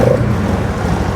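A Polaris Sportsman ATV engine drones at raised revs, a rough, steady low-pitched rumble heard close up over a brief moment.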